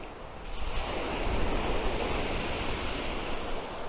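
Sea waves wash steadily onto a pebble beach at Simeiz in a soft, continuous surf rush with light wind noise and no talking.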